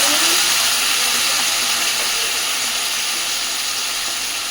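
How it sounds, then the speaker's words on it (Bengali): Water poured into a hot pan of frying spices for a Bengali fish curry with potato and eggplant, giving a loud, steady broadband sizzle and hiss that fades slightly over several seconds, with no talking. "এইবার দিয়ে দিচ্ছি অল্প একটু জল, যাতে মশলাটা পুড়ে না যায়।"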